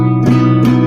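A sustained major chord rings out from a stringed instrument, part of an original composition, holding steady for under a second with two brief swells in the upper overtones.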